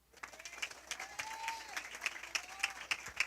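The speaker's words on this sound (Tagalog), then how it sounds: "Kusog pa nga pagpalakpak mga igsoon." A church congregation claps in steady, enthusiastic applause during a worship service, the rhythmic clapping loud and close, while a voice carries above it.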